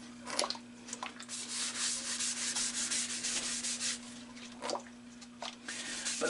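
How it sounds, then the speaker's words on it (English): An almond wood calabash bowl from Hawaii is wet sanded with 80 grit paper over an oiled surface, a close, steady rasping rub in long strokes with brief pauses and a faint constant hum underneath. "let's continue sanding now that it's wet with 80 grit."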